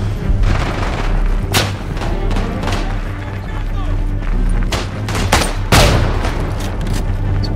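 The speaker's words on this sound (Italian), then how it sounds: "Si può sapere chi spari?" Gunfire rings out in the World War I shooter Isonzo: dense rifle and machine-gun shots and heavy booming blasts crackle in a steady battlefield din, with sharp reports near and far.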